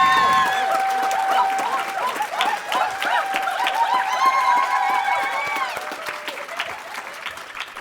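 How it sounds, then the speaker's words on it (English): An awards banquet audience breaks into sustained applause, dense clapping from a large crowd that swells early, holds, and slowly tapers off, with faint voices mixed in. "If we could get a round of applause for that."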